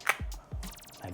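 Magnetic cap of a Woods collection Dusk fragrance bottle being handled, giving a few quick clicks and soft clacks as it snaps and shifts, close and fairly quiet with no talking.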